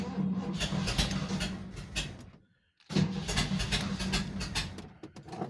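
A 1979 Ford Ranchero engine runs loud and close with a steady rumbling drone, cutting out briefly near the middle before picking back up and carrying on.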